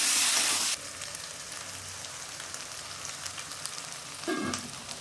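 Spices fry and sizzle in hot oil for a banana flower and prawn curry, a steady crackling hiss with a louder stir near the start and another scrape near the end.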